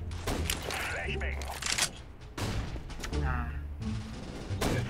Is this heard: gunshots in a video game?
yes